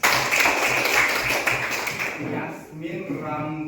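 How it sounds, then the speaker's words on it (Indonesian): Students in a classroom clap together for a classmate's test score, a dense burst of hand claps that fades after about two seconds before a teacher's voice speaks. "tepuk tangan."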